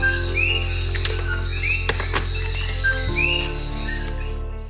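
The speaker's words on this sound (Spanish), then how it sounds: "Era una orquesta de pájaros y grillos." Birds chirp and whistle in short repeated calls over a steady low hum of crickets and background drone at dawn in the Río Abajo forest, Utuado, Puerto Rico, with no voices.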